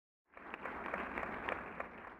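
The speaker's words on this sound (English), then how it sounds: "Muffled applause resonated faintly through the walls." From the video game Beacon Pine, muffled applause carries faintly through walls: a short, dull burst of many hands clapping that rises quickly and holds steady for about two seconds, distant and softened.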